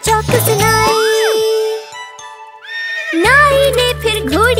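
A horse neighs, a rising and falling whinny, between bright jingling bells and clip-clop beats in an animated Hindi children's song, with musical backing throughout.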